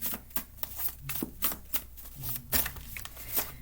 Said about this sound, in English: I was shuffling in several decks.